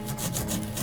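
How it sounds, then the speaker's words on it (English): A saw working steadily through a soft, crumbly block of mineral material, giving a continuous close, rough rasping with faint rhythmic strokes and no voices. "Trying to saw a block of sawdust."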